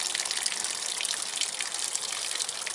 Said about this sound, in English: turn the water off, I just turned it almost off